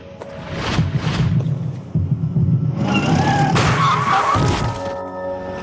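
Staged traffic accident effect of a car crash, heavy rumbling thuds and a loud smash with shattering debris and screeching, rising in intensity then ringing off, no talk.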